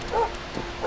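A dog in the video game Dragon Quest XI gives a couple of short, yippy barks and whimpers, fairly close and moderately loud, over a quiet background.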